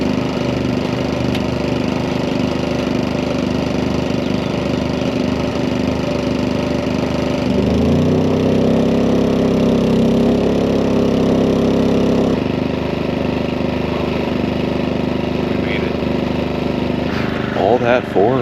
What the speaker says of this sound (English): That's definitely worth firing up the generator at 6 a.m.